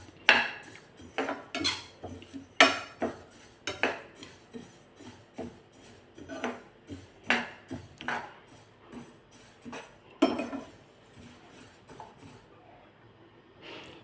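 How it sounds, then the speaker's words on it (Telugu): Sesame seeds, about 100 grams, dry-roasting in a pan as a spatula repeatedly scrapes and clatters against the metal, giving irregular close scraping strokes with no voices. "ఒక 100 గ్రాములు తీసుకున్నానండి నువ్వులు. వీటిని వేయించుకోవాలి."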